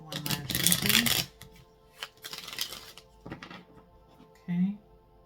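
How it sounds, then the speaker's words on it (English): Tarot cards being shuffled by hand during a reading, a loud burst of riffling and rasping at the start followed by a few softer shuffles and taps, with brief quiet gaps between them. "One last shuffle."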